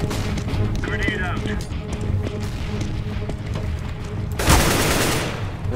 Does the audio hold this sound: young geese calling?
no